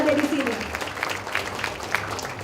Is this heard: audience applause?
yes